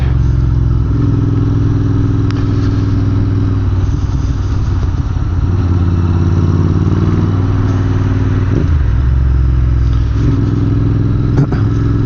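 A Royal Enfield INT650 motorcycle rides on a freezing road at about -2 degrees, its engine a loud steady drone with low harmonic bands, easing and picking up again near the middle and end, with wind rush throughout.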